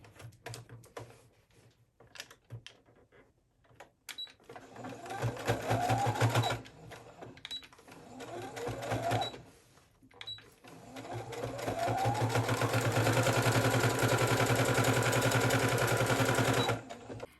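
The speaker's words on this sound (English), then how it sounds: "then we're going to open it like this and do our top stitch here again" A sewing machine top stitches a blouse in rapid mechanical bursts, stopping and starting several times before a long, steady, close run of stitching.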